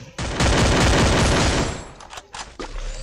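A rapid burst of gunfire from the Free Fire battle royale game, a dense loud volley lasting over a second, followed by a few scattered single shots.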